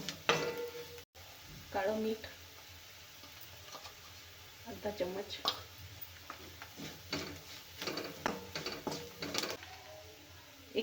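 Red chilli powder, coriander powder and salt roast in a pan for a vegetable paratha filling, giving quiet sizzling with scraping, clicking stirs of a spoon at irregular intervals.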